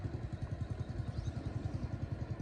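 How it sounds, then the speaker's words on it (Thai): A water pump beside a large farm pond thuds in a steady, rapid low rhythm like a small idling engine. It is heard alone and fairly faint. "ตรงนั้นก็เขากำลังสูบน้ำอยู่นะครับ ถ้าเสียงดังก็ต้องขออภัยด้วยนะผม"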